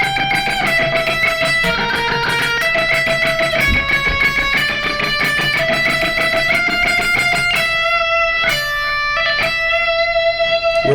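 A distorted electric guitar plays an outro solo line slowly, the sustained overdriven notes running one into the next at a steady loud level before thinning to a few held notes.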